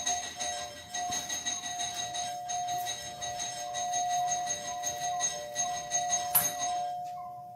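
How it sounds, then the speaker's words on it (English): A doorbell chiming in the middle of the night inside a home, a steady sustained bell tone ringing continuously with a brighter strike near the end, heard alone with no talking. "There's somebody ringing the doorbell."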